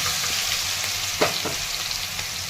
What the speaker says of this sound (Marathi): आता यामध्ये ह्या शेंगा टाकून घेत आहे